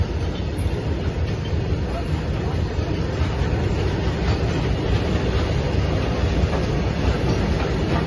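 Train rakes run along a dusty railway line through a village right of way in Velsao, Goa, making a loud, close, continuous rumble and rattle of wagons that lasts the whole time.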